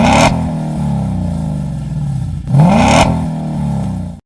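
2018-2020 Ford Mustang GT V8 with a MagnaFlow xMOD series exhaust and no muffler bodies, two loud close throttle blips with a smooth drop back between them and a deep droning tone throughout.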